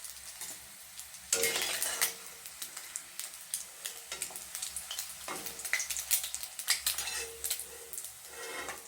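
Egg frying in a pan for a traditional egg curry, a steady loud sizzle and crackle throughout with occasional clinks of a utensil against the pan, no voices.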